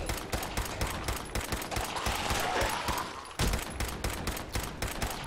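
Rapid, loud gunfire from the player's gun in Fallout 4, fired as a steady stream of shots for several seconds with a brief pause partway through and no talking.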